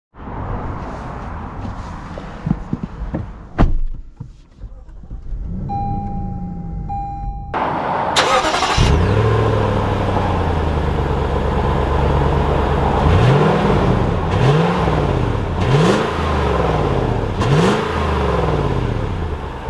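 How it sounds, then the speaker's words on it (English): A 2021 Lexus GX 460 Luxury SUV comes to life with a short starter burst, then a steady nearby idle that swells into repeated smooth rises of engine revs as it pulls away. "let's take this GX 460 out and see how it drives"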